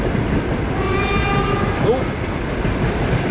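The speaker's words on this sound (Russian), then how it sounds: "Поезд." A train rolls past with a loud, continuous rumble and rattle of wagons, and its horn sounds partway through; a voice briefly speaks over the noise.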